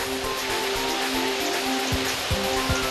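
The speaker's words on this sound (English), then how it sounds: "So the water just trickles down," A small waterfall fed by a modest source makes a continuous broadband wash of water, steady and moderately loud throughout with no voices.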